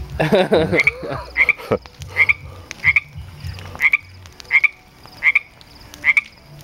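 A frog croaks at night beside a pond, its short rasping calls repeating about every half second, loud and close over a quiet background, with some low rustling at the start.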